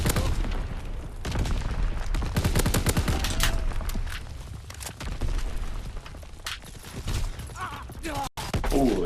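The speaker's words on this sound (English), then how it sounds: "I didn't know he was there till he started shooting me." Rapid bursts of gunfire from Call of Duty WW2 multiplayer crackle up close as the player is shot from a flank. The shots come in dense clusters, broken by short gaps, under faint game noise.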